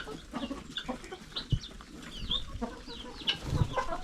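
Chickens cluck and peck at feed on a small Philippine farm, a busy cluster of short clucks and scratchy pecks close by, with no talking.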